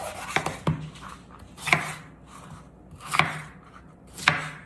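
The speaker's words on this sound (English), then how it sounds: "For our pepper, we're just going to cut it all around" A knife slices through a pepper on a cutting board, giving several crisp, separate chops spaced about a second apart, close and clear, with soft rubbing sounds in between and no talking.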